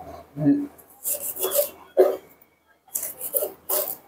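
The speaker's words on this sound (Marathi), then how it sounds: "अशी भाजी पूर्ण बारीक कापून घ्यायची" A knife finely chops colocasia (taro) leaves on a board, making short, crisp cutting strokes in small clusters between moments of quiet, with a voice talking alongside.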